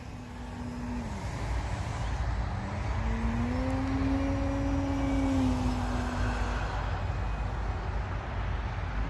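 Flex Innovations Mamba 60E electric RC airplane making a pass overhead at night, a faint whining motor tone rising and falling in pitch against steady outdoor background noise.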